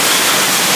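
Water rushing into a house during Diwali-time rain, a loud, dense, continuous hiss of flowing water close by with no talk over it.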